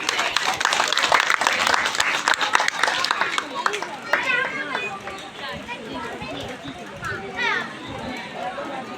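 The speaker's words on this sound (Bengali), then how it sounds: "সকলের জন্য একটা হাততালি হয়ে যায়" An audience clapping at a library meeting, a dense burst of applause at the start that fades into scattered claps under chatter and a nearby voice speaking.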